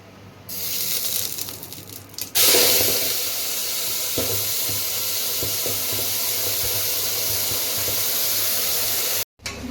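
Masala paste from a mixie jar hits a hot pan with curry leaves for a mutton curry, bursting into a loud, steady sizzle that holds strongly for several seconds before briefly cutting out near the end.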